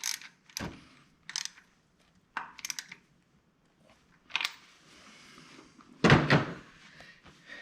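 A ratchet with a 16 mm deep socket works on the exhaust manifold nuts of a Dodge Cummins diesel, giving a few short clicking, ratcheting bursts separated by quiet gaps, close and fairly soft.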